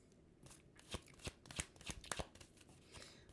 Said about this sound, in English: Let's just finish out this shuffle.